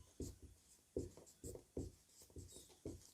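A pen writing on paper during a school maths lesson: close, rhythmic scratching strokes come in short repeated bursts, each about half a second apart.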